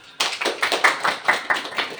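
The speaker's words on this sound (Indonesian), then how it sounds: "Oke, tepuk tangan." A small group claps in a classroom lesson, a short burst of about a dozen sharp, distinct hand claps in an uneven rhythm, close and clear with no talking.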